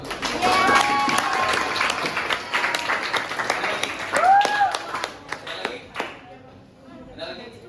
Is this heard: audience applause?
yes